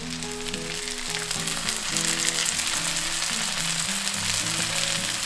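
Breaded Wiener schnitzel frying golden in a pan of hot fat, a dense, continuous close sizzle and crackle that stays loud throughout, with a tonal background sound underneath and no talk.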